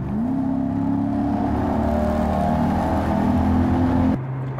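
A Toyota Celsior (Lexus LS400 UCF21) with a straight pipe exhaust drones from inside the cabin, a steady low engine hum with a faint rising tone, well muffled, then cutting to a quieter idle near the end.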